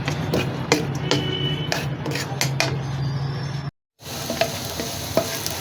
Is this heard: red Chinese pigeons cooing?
no